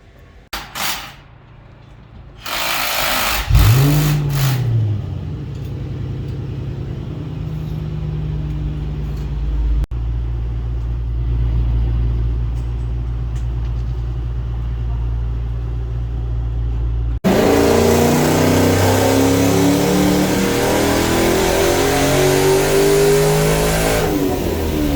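Infiniti M45 V8 running on a dyno during a tuning session, a sharp opening rev and clatter, then a long sustained loud engine drone that steps up to a harsher, higher-load roar near the end.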